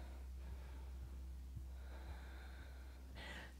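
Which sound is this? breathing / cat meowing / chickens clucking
breathing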